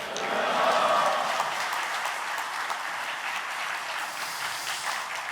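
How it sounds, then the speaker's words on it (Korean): A church congregation claps to welcome its pastor at a Korean men's mission worship service, a broad, steady round of applause filling the hall, strongest at the start and holding evenly throughout. "목사님을 박수로 환영하시겠습니다"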